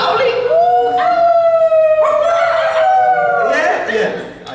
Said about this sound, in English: Do you not hear the howling?